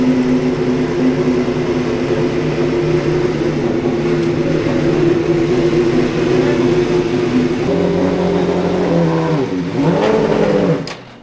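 A Formula 1 race car engine drones loudly and steadily with a strong harmonic hum, then its pitch dips and swoops as it revs while pulling away, fading at the end.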